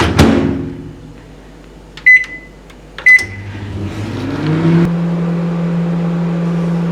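A kitchen microwave oven starts with a thump and two beeps from its keypad, then settles into a steady low hum that grows fuller and keeps running.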